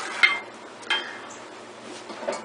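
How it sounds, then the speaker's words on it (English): A metal spoon stirs lemon peel in water in a pot for candied lemon peel, giving a few light clinks against the side, quiet and close, with no talking. "And I'm going to find me a spoon. Get that mixed in a little bit."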